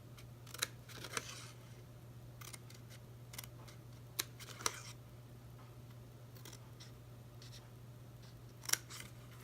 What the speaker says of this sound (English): So we're going to cut just to the first horizontal score line.